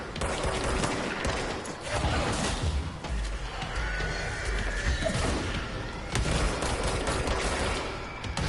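Heavy gunfire in Control, loud repeated shots and bursts with thuds and crashes mixed in, continuous through the clip under a busy game mix.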